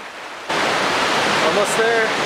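A waterfall of icy cold water at the end of a short hiking trail fills the space with a loud, steady broadband rush that starts abruptly and holds constant, with faint whistle-like tones briefly over the top.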